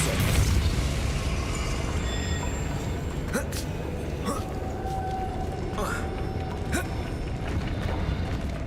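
A force spell called Depulso is cast in the Hogwarts Legacy video game, heard as soft bursts and creaking mechanisms over a steady game ambience and background score.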